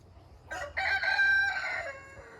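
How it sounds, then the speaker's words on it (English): A rooster crows loudly and close by, one long drawn-out call over a low farmyard hum, part of a back-and-forth with a neighbouring rooster. "They get to going back and forth, my rooster and their rooster"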